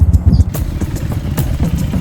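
A motorcycle pulling away with its side stand still down, engine running at close range with a steady low rumble and scattered clattering scrapes over about two seconds, no talk.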